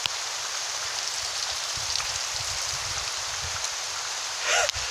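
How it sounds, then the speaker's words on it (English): Hail pelting down outdoors during a hailstorm in Whittier, a steady dense hiss of ice pellets striking surfaces, continuous and fairly even, with a brief louder burst near the end. "It's just straight hail. It is just pure hail out here."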